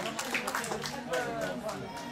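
An audience at a horse show competition applauds in a continuous patter of many hands, while someone speaks over the clapping.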